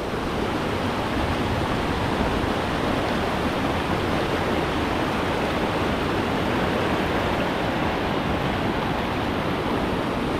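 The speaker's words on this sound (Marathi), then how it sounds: "जे धबधब्याचं पाणी आहे ते ह्या नदीला येतं." A river fed by a waterfall in Konkan rushes close by in a loud, unbroken roar that stays even and dense from start to finish, with no voices.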